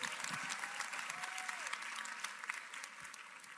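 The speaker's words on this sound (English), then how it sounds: "Clap it up, clap it up, clap it up." Audience applause at a live question-and-answer session, a steady wash of clapping from a crowd heard at a moderate distance, fairly faint and even, with a brief voice passing through.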